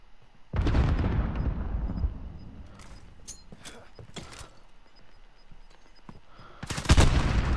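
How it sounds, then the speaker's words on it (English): Gunfire in a shooter video game, a sudden loud burst of shots followed by scattered sharper cracks and a second heavy volley near the end, with no talking over it. "Yo, he's shooting at me from somewhere."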